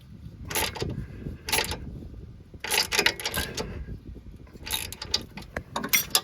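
Ratcheting wrench tightening the nut on a front sway bar link of a 2006-2011 Toyota Camry, giving bursts of close mechanical clicking and ratcheting in several separate spells.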